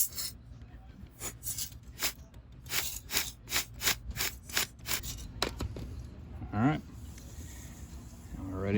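Repeated short scraping strokes of a deburring tool against drilled steel holes, rhythmic and close, followed by brief squeaky grinding sounds.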